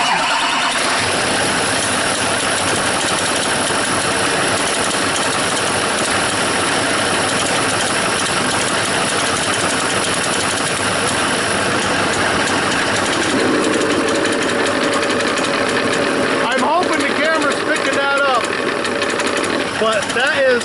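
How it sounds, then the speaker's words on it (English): A car engine runs loud and steady at idle, with a constant mechanical whir. Brief voices can be heard near the end. "we're going to actually start the vehicle up"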